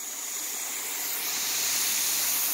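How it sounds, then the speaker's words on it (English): Water from a garden hose sprays steadily onto a catalpa tree in a yard, a continuous soft hiss that grows slightly louder, alone without any talking. "I'm just giving some extra water to this catalpa today."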